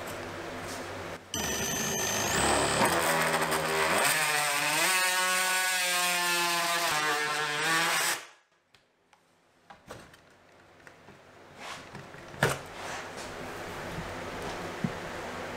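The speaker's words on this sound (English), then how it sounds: "For this section of drywall, we are going to be using a different size Q-bit cutter." A rotary tool fitted with a square two-gang box cutting bit cuts through drywall, a loud, harmonic whine that rises and holds for about eight seconds before stopping abruptly, leaving quiet rustling and faint knocks.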